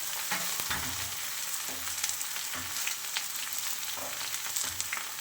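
Pieces of bottle gourd sizzling steadily in a hot frying pan with oil and green chillies, with soft stirring and scraping taps over the continuous fry.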